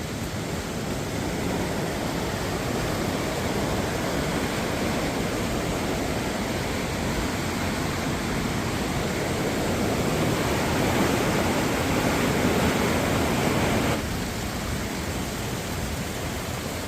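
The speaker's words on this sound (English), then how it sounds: "you start to see a glimpse of another waterfall" A waterfall near Swallow Falls in a Welsh forest roars steadily, a dense broadband rush of falling water that stays loud and unbroken throughout, easing slightly near the end.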